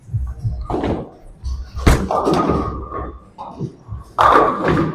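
A bowling ball, thrown with strong axis rotation, rolls down the lane and crashes into the pins, a sharp impact followed by scattering clatter, all over steady alley ambience with some background talk.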